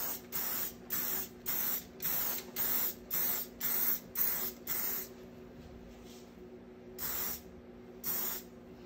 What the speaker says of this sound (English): So let's go ahead and spray our boards